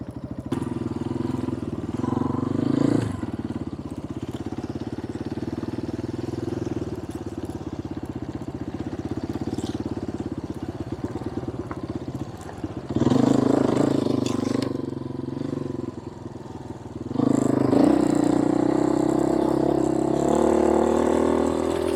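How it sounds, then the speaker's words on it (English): An off-road trail vehicle's engine runs steadily on a ride to Parker, Arizona, its low drone rising into louder surges of revving and engine braking at intervals, with rattling clatter beneath. "Still getting used to the engine braking on this thing."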